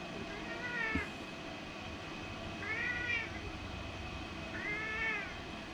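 A cat that dislikes being held meows three times in drawn-out, even calls spaced about two seconds apart, close by over a steady low background hum.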